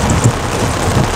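Steady rain drumming on an electric car while driving, a loud, dense wash of drops on the body and glass with low rumbling underneath, no voices.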